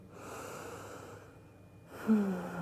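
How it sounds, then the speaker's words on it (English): Close breathing during a yoga child's pose, a soft drawn-out exhale, a short pause, then a louder, rougher breath with a slight wheezy edge, no talking. "Couple of breaths in here."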